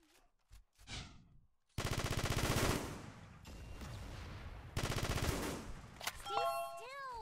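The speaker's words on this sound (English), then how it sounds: "Stay still. I'm trying to shoot you." Automatic gunfire in a shooting video game: several loud bursts of rapid, evenly spaced shots separated by brief pauses, with scattered game effects and a short electronic chime at the end.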